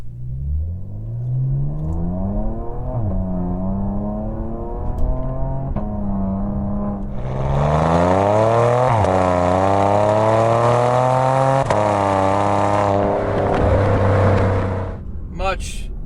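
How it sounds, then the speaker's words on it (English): A Porsche Macan with an Armytrix valved exhaust in race mode revs repeatedly, its engine note climbing and falling, then growing louder and rougher midway as it holds high revs before dropping off. "So that's the Armytrix exhaust."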